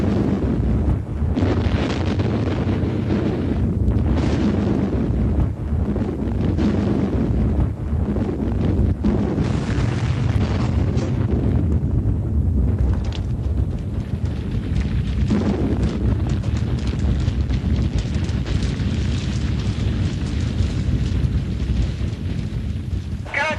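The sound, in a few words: film pyrotechnic explosion set off for movie scene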